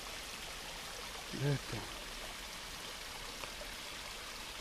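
A small river or creek polluted with plastic waste flows steadily with a soft, continuous rushing wash, while someone speaks briefly over it.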